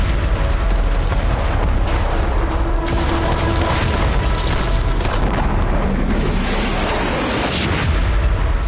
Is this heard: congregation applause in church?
no